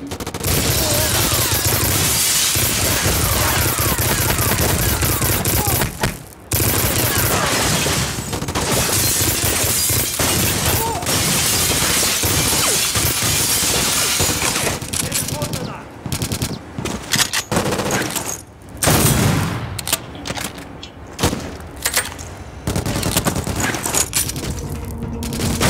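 Loud, near-continuous automatic gunfire and crackling shots in the first-person shooter Black, on the Vratska Dockyard level, with brief pauses and scattered impacts and bursts, and a faint voice now and then.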